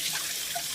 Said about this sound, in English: Pour water inside.